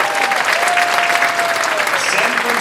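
Audience applause for high school orchestra seniors at a concert hall performance, a dense steady clapping that fills the room throughout, with a faint whistle-like tone drifting above it.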